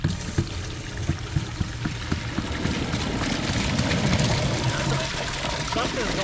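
Creek waterfall water flowing, a steady broad rush of falling water close by with an engine-like rumble beneath and people talking over it.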